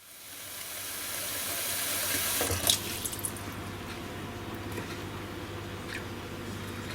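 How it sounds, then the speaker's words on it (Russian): Water running and hissing steadily as an orchid is set into water to soak its roots, a broad continuous rush with a brief splashy bump partway through. "орхидею помещаю в воду для того, чтобы напоить корни"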